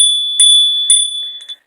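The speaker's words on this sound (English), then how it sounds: "I always hit the bell" Small bell struck twice, each hit ringing out bright and clear with a long sustained tone, then a lighter tap near the end, close and loud with no talking.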